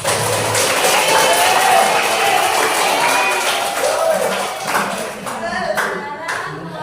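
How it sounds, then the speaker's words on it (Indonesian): A classroom of students claps for a group presentation, a burst of many overlapping hand claps that thins out toward the end, mixed with some voices. "Tepuk tangan untuk kelompok visual"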